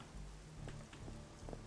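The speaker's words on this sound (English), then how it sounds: "In the rain, how romantic." Steady rain falls in a stormy scene from Marvel's Midnight Suns, a dense even patter with a few sharper drops standing out, heard alone without voices.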